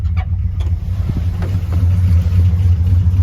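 A 1964 Chrysler New Yorker engine, recently troubled by fouled spark plugs, runs at a steady idle with a deep, continuous low rumble close by, alone with no talking.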